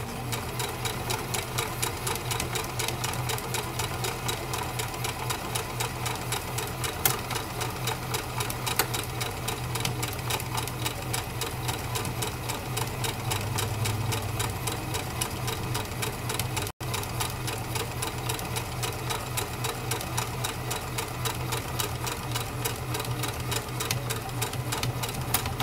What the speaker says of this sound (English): So let's get this overlocking serger stitch a sewing.